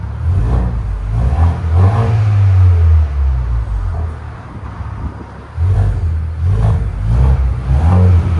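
Repeated throttle blips from a 2025 Ford Bronco's 2.3L turbo engine through an aftermarket exhaust, a loud, deep, clean tone rising and falling, close by, with a brief lull midway.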